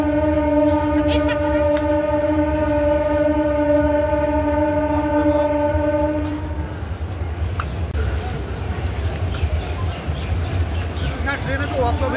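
Inside a moving passenger train, a loud sustained tonal blare, likely the horn, holds for several seconds and then cuts off, leaving the constant low rumble and rattle of the carriage running on the rails.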